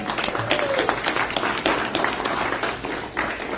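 An audience at a real estate talk gives a big round of applause, a loud, dense wash of clapping that carries on steadily with slight swells.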